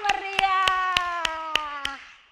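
Seven evenly spaced sharp claps from a group of children at a Sunday children's church service, ringing against a sustained sung or tonal note underneath.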